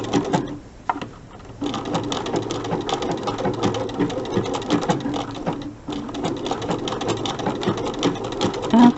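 Domestic sewing machine stitching an appliqué snowman head, running in steady continuous bursts with two short pauses where the needle stops, close and moderately loud.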